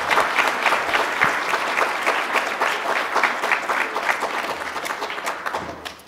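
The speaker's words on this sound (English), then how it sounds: "Let's give them another round of applause." A conference audience gives a sustained round of applause for a panel of speakers, dense and steady clapping filling the room for several seconds before tapering off at the end.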